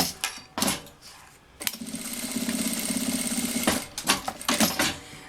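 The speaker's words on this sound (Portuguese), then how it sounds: "Posiciono ela aqui e passo a costura." Sewing machine stitching a strap onto a child's backpack: a steady rapid mechanical chatter running about two seconds near and clear, framed by shorter start-stop bursts and handling clicks before and after.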